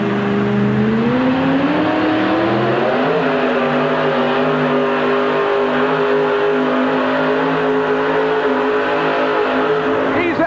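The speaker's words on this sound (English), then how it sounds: "Listen to this truck." A loud super modified pulling truck engine, the Orange Blossom Special 1, revs hard and holds a steady, heavy roar up close, its pitch climbing early on and then staying high and sustained.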